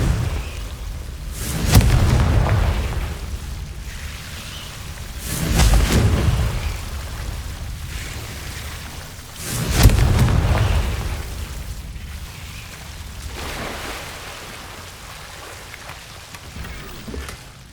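Confringo blasting spells going off in the Hogwarts Legacy game: three loud booming bursts, each followed by a crackling rumbling tail that decays, spaced several seconds apart over a steady noisy background.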